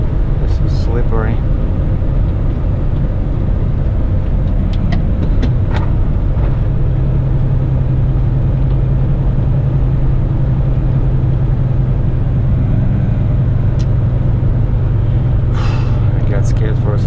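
A truck engine rumbles with a steady low drone while driving on a slippery, snowy hill during a winter storm, with a person talking nervously over the vehicle noise.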